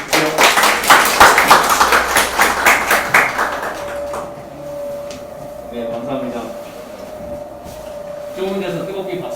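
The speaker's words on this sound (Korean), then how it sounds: "정대진 박사님을 뜨거운 박수로 환영해 주십시오" Dense, rhythmic audience clapping welcoming a speaker at a small talk concert, loud and close for about four seconds before fading out, followed by quieter room sound and a short spoken thank-you.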